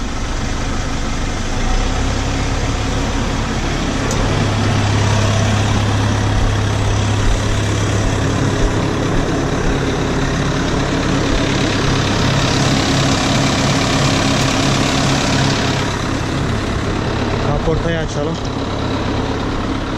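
A heavy diesel tractor engine rumbles steadily and is revved up, with a loud, sustained low drone throughout and background clatter.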